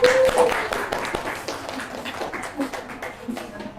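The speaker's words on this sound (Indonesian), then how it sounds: "beri tepuk tangan pada teman-temannya" Classmates in a school classroom give a short burst of clapping that fades after the first second into scattered taps and murmuring voices.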